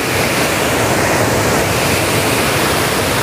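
Steady, dense rush of water pouring over a lake weir, loud and continuous without any break.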